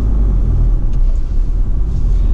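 A 2014 Ford Transit 350 fourteen-seat minibus engine idles just after starting, giving a steady, close, fairly loud low rumble with no voices.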